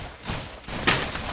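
Gunfire in the online shooter game Rounds, a rapid volley of sharp shots with one brighter blast near the middle, loud and close over a busy game mix.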